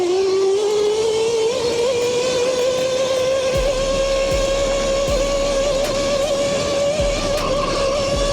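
A modified MegaWheels D2 Pro 6000W electric dirt bike with an upgraded battery, its motor whining loud and steady in a rising pitch as it accelerates, with wind noise and occasional thumps from the ride.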